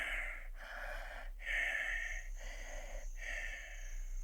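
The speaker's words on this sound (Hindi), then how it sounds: "तभी मैंने अपने पीछे किसी की सांसों की आवाज़ सुनी।" Heavy, rhythmic breaths in a horror narration set in a haunted forest, four or five drawn-out inhales and exhales in steady succession, fairly close and alone with no talking.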